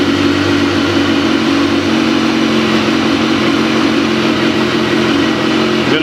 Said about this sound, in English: Good, let's start up the bike.